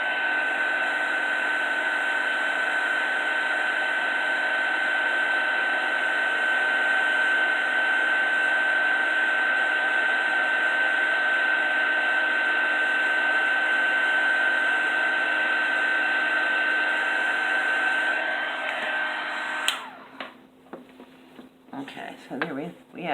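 A small craft heat tool blows a steady, loud whirring hiss for about twenty seconds while it melts embossing powder, then clicks off, leaving light handling noises.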